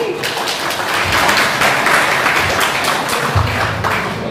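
A college audience claps and cheers for a poetry recitation at Chakarkend College: dense, sustained applause from a large crowd fills the room, loud and steady throughout, with some low thumps mixed in.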